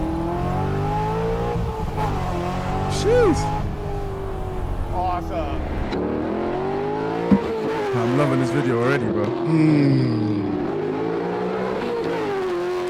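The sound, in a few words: custom American muscle car engine revving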